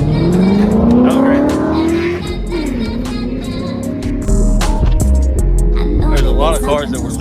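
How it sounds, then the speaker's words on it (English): Cars drive past and rev their engines at a car show held at Pitt Race track. Engine pitch climbs and falls close by, loud and continuous, with people talking over it. "lot of cars that were leaving, but a lot of them kept coming in"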